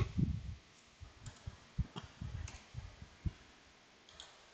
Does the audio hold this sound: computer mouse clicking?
yes